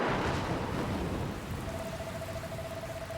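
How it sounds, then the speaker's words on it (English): Rain and thunder from the video game Dragon Quest Builders 2: a steady wash of rainfall with a low rumble, heard alone, and a faint sustained tone joining partway through. "Where did this rain come from?"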